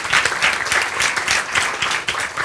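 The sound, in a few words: audience applause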